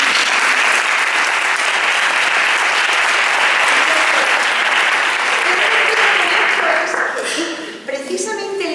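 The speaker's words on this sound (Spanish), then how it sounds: "les voy a dar un aplauso porque estamos muy cerca" An audience at an education innovation day claps steadily for two honored parents, a dense, loud wash of applause lasting several seconds and then thinning out into scattered claps and voices at the end.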